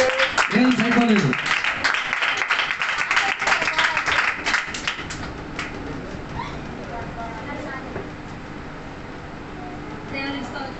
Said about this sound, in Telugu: చప్పట్లు కొట్టి కాస్త బలపరచండి